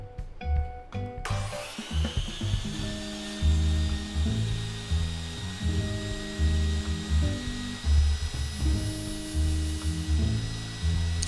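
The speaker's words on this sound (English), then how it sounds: "I made something that I can use to hold the dowels in the drill" A drill whirs in repeated bursts, its motor revving and dipping as the bit chamfers the ends of wooden dowels, close and fairly loud.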